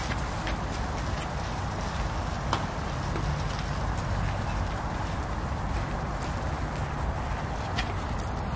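A horse's hooves clip-clop and paw at the earth during a November walk in a Yelagin park, faint irregular knocks under steady outdoor background noise.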